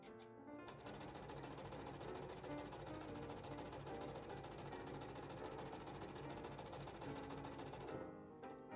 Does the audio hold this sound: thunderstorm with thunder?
no